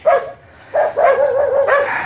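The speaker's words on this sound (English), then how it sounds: "Gotta love the dogs." A dog barks in short bursts, a sharp yelp followed by a longer run of close, loud barking, with no talk over it.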